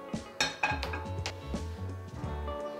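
A metal pan set down for cooking red chutney for idli burger patties, making a series of close, ringing clanks and clatters in quick succession in a quiet kitchen.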